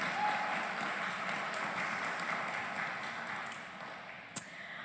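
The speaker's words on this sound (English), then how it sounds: "Please, a round of applause for our incredible panellists." An audience at an inclusion festival panel discussion claps for the panellists in a steady, moderately distant round of applause that slowly thins out, with a single sharp knock near the end.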